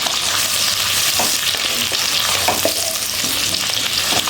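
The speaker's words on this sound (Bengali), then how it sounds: "পেঁয়াজটাকে আমি একটু ভেজে নিচ্ছি।" A medium-sized onion fries in a pan, its steady dense sizzle running throughout while a utensil stirs it with occasional scraping clicks and knocks, close and fairly loud with no talking.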